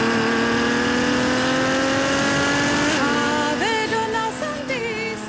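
A red Ferrari FF with 660 horsepower revs hard while driving. The engine note climbs steadily and loudly, drops briefly around a gear change, then keeps pulling with a strong, continuous roar.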